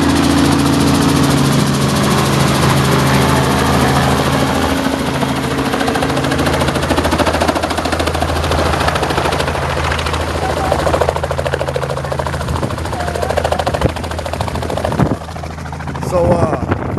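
A tour helicopter in Kissimmee, Florida arrives and runs nearby, giving a loud, constant rotor chop and engine roar throughout, with a faint voice barely audible under the noise.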